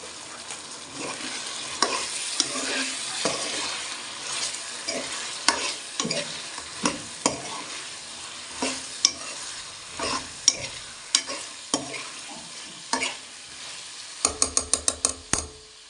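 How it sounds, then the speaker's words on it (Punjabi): Chicken cooking in a pan for palak chicken, stirred repeatedly with a spatula that scrapes and taps against the pan over a steady sizzle, ending in a quick run of sharp clacks. "ਇੱਕ ਵਾਰੀ ਇਹਨੂੰ ਹਿਲਾ ਲਈਏ ਥੱਲੇ ਨਾ ਲੱਗ ਜਾਵੇ"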